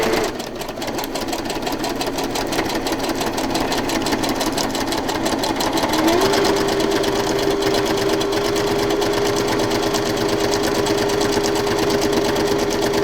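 A sewing machine stitches through a journal page, running continuously and loudly nearby for the whole stretch with a steady mechanical whir that shifts slightly in pitch midway.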